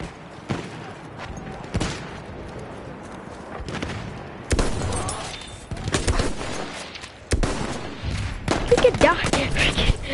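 Bursts of gunfire from the Battlefield 1 video game, loud and near, in several clusters with short lulls between them and denser volleys toward the end.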